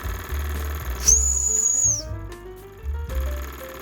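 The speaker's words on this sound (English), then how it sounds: "Let's test the whistle out, see how much we'll lose in power." A Jensen model steam engine's high, steady whistle blows for about a second over rhythmic chuffing, and the engine slows noticeably afterward.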